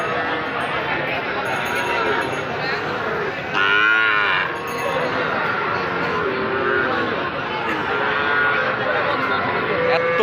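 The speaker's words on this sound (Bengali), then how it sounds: "এখানে ছোট্ট ছোট্ট 3টা বাছুর আছে।" Calves and cattle at a busy cattle market, a loud nearby moo rising midway over a dense crowd murmur and talk throughout.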